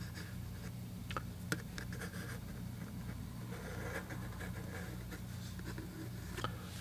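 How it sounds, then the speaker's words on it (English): A pencil sketches darker lines over an outline on paper for a watercolor lily painting, giving faint, close, dry scratchy strokes in short irregular bursts against quiet room hiss. "I'm going to go over this again with a darker pencil line."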